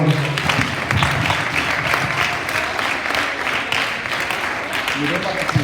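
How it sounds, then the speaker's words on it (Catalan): A school audience at a secondary-institute recital gives a sustained round of applause, a dense clapping wash that runs throughout while a voice talks over it. "Un fort aplaudiment, per favor."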